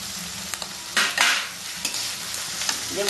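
Onion and garlic frying in a pan for Bengali-style chilli chicken, a close, continuous sizzle and crackle of oil with occasional stirring scrapes and brief louder bursts, no talking.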